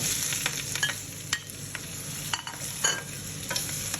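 Chinese kale stir-frying in a hot wok, a steady close sizzle punctuated by sharp metallic clinks and scrapes of the spatula at irregular intervals.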